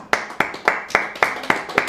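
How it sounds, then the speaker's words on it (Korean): Congregation clapping in a church service, seven evenly spaced sharp claps in a steady rhythm, loud and close, with no talk over them. "박수합시다."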